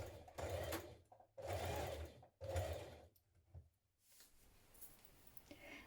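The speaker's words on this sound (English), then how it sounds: "now we're going to stitch around the top of that neck" A home sewing machine stitches around the neckline of a frill dress in three quick whirring bursts separated by short pauses, followed by quieter handling noise as the fabric is moved.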